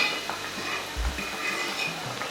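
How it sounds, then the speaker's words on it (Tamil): Paneer cubes roasting in a pan for palak paneer, a soft continuous sizzle with a brief low clatter near the middle, fairly quiet with no voices. "பன்னீர் இந்த அளவுக்கு ரோஸ்ட் ஆனால் போதும்"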